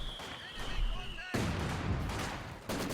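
Machine gun fire in the strategy game Company of Heroes 2, with Maxim guns in play, a steady battle rattle that jumps louder midway while a commentator talks over it.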